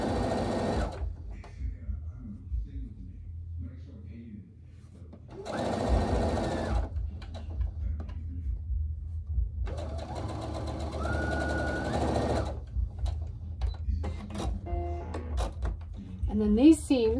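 Sewing machine stitching quilt seams on an hourglass quilt, with close bursts of rapid mechanical whirring separated by pauses, while a person talks throughout.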